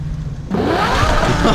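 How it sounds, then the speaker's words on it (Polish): A rusty old car's engine running on petrol roars up abruptly as the gas is pressed, a loud close rising rev that holds steady with a whirring mechanical drone and no talking. "A weź teraz włącz gaz."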